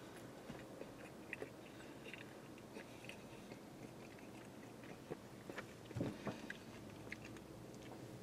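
Arby's pretzel nuggets being bitten and chewed close to the mic, quiet soft crunches and mouth sounds repeating irregularly, with a louder cluster of bites near the end.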